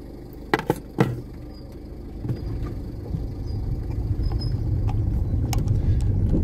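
A car drives into Yedigöller park, its low engine and road rumble building steadily after a few sharp clunks at the start, with no talk over it.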